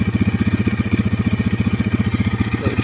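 A 2026 GPX 300 EFI air-cooled, fuel-injected motorcycle engine runs right after a push-button start, with a loud, close, steady pulsing idle throughout and no talking.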